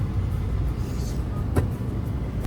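City road traffic with a bus nearby in Dhaka, a continuous rumbling wash of engines and tyres, fairly loud and close, with one brief sharp hiss or clatter partway through.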